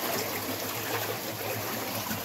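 A shrunken stream that was once large and deep trickles steadily beside a stone wall during a small-fish fishing outing. The water runs as a constant broadband wash with no voices over it.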